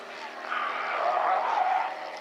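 A propeller airplane drones past at an air show, a steady engine hum that swells gradually, peaking midway before easing slightly, heard from a moderate distance with no talk.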